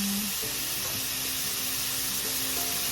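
Chayote with egg and spring onion cooking in a pan, giving a steady, close hiss of frying that continues evenly without pause.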